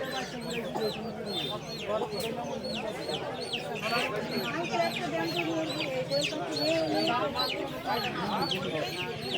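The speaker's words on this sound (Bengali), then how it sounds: "প্রচুর জমজমাট হয়ে উঠেছে কেরানীগঞ্জ আটিবাজার হাঁস মুরগির হাটটি" Many chickens and ducks at a crowded rural poultry market in Aati Bazar, Keraniganj, cluck and squawk continuously near and far, under a babble of people talking.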